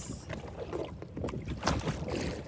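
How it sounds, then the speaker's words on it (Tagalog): Wind buffets the microphone on open water, with low rumbling gusts and splashing from a small boat, steady and close. "Sa lakas ng hangin po. Sa hangin. May alon."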